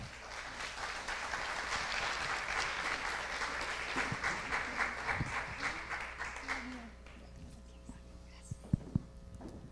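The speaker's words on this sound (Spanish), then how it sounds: "fuerte aplauso a Adriana" An audience at a talk on AR and VR design applauds steadily and densely for several seconds, then the clapping fades away and a few scattered sounds and a voice emerge.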